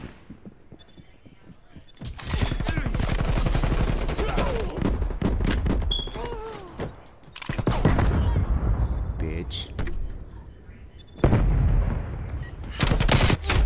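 Rapid LMG machine gun fire in the video game Black Ops Cold War comes in loud, dense sustained bursts with brief gaps. Shots overlap, and some speech is mixed in.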